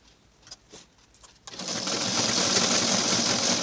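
A sewing machine stitches the square neckline of a garment, starting abruptly after a few soft handling taps and then running at a steady, fast, loud whir to the end.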